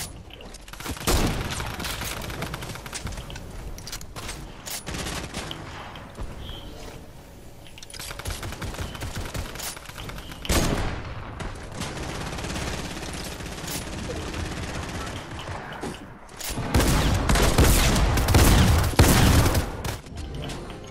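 Gunfire in the Fortnite video game, a pistol among the weapons, with bursts of rapid shots and loud blasts scattered across the stretch, heaviest near the end, plus some background game noise.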